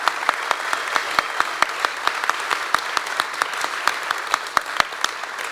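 A small live podcast audience at a Fire Station venue in Sunderland claps for Rob Mason, sparse, uneven individual claps with distinct sharp hits rather than a dense roar, fairly close and moderately loud.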